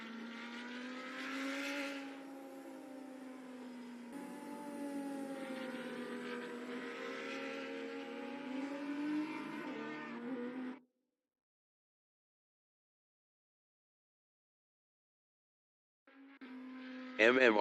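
Race cars in the NZ SuperLap virtual racing game roar along with a steady, loud engine drone and shifting pitch for about ten seconds, then silence, then a brief burst of engine noise at the end.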